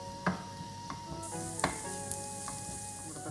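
Tomatoes sizzle steadily in a pan for Kerala beef varattiyathu, with intermittent scrapes and taps of a utensil stirring them through the constant frying hiss.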